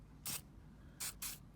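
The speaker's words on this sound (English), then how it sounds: "So if the screws are stuck, just use a little loosener" Three short hissing bursts of penetrating loosener sprayed from an aerosol can onto stuck screws of a windshield wiper linkage, one at a time then two close together, fairly quiet with near silence between.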